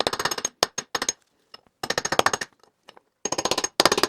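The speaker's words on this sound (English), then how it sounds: "I'm just going to take a little drift punch, kind of smack the bolts here." Rapid bursts of sharp metallic impacts, a drift punch hammered against stuck bolts on the aluminum case of a Triumph TR4 A-type overdrive, loud and close in quick rattling volleys separated by short pauses.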